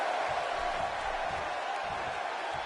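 A wrestling crowd murmurs and cheers at a moderate distance, a steady diffuse roar of many voices with faint low thumps underneath.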